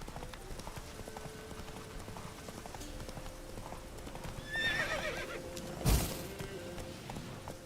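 A horse in a video game gallops with steady clip-clop hoofbeats, then lets out a loud whinnying neigh near the end.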